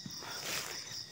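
Faint insects chirp at dusk in a thin, continuous high trill, soft and somewhat distant, with no voices over it.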